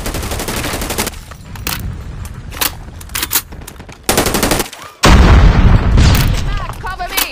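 Automatic sentry gun fire in the Call of Duty: Mobile Frontline mission, loud sustained bursts of rapid shots mixed with other weapons, booms and shouted game voices.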